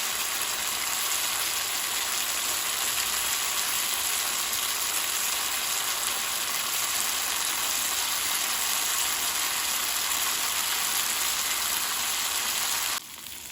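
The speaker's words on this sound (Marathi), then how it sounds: "आता ही चांगली भाजून घ्यायची" Cluster beans frying in an iron wok, a steady, even broadband sizzle that continues unbroken for many seconds with no talking, then drops off right at the end.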